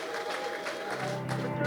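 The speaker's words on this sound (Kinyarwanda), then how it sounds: "tugiye kwakira umunyarwenya witwa Dudu, tumwakire n'amashyi menshi" Audience applause and clapping welcome a comedian onto the stage at a live stand-up comedy show, a steady crowd wash lasting the whole moment and swelling slightly toward the end.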